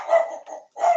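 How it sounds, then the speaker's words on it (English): A dog barks twice in quick succession, loud and close indoors, at a delivery person arriving. "Oh, my dog's going crazy."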